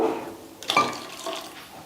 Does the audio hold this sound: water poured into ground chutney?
yes